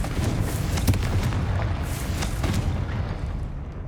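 A Confringo blasting curse explodes in Hogwarts Legacy, a rumbling boom with several sharp bursts that fades over a few seconds.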